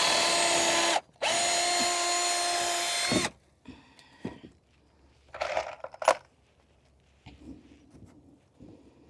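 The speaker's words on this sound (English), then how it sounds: "let's just put a screw in" A power drill drives a screw into wood for a greenhouse growing bed, giving two loud sustained whirring bursts split by a short gap, followed by quieter knocks and handling noises.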